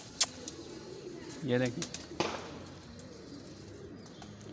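Pigeons of a fancy breed kept for sale give a brief, close burst of throaty cooing, with a few short calls around it, while someone talks over them.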